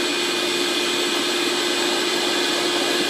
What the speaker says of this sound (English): You get water, a barrel, a towel, a vacuum, or some kind of blower, and then you do this.